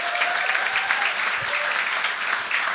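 An audience applauds a couple visiting from Belgium, a steady dense clapping that fills the room throughout.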